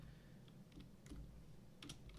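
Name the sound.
typing on a computer keyboard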